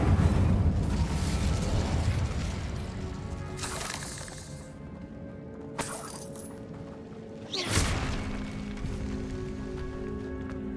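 In the Hogwarts Legacy video game, an Incendio fire spell is cast with sudden whooshing fiery bursts over a loud rumbling game soundscape. Several blasts erupt at intervals, each flaring briefly and fading.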